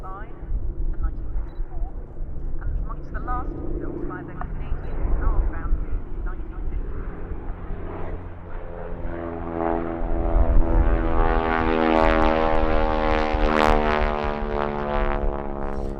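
Piston propeller trainers, a Harvard T6 and a Yale, fly past at the Duxford airshow, their engine drone rising and sweeping in pitch as they approach and pass overhead, growing louder toward the end while a voice talks throughout.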